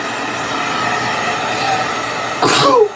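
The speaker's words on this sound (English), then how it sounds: "My morning sneeze." A single loud sneeze bursts out near the end, close and abrupt, over a steady background hum of rumbling noise.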